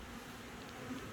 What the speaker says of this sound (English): what I thought was the largest swarm I've ever seen